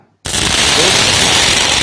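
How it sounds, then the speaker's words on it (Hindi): A firecracker ignites and goes off with a sudden loud onset, then a dense, continuous crackling burst like rapid-fire pops that holds at full strength for over a second and a half. "जब हम पटाखे को जलाते हैं तो एक अचानक अभिक्रिया होने से ऊष्मा, प्रकाश और ध्वनि पैदा होती है।"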